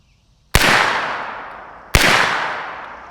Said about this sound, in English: Again, 2 rounds down range unsuppressed.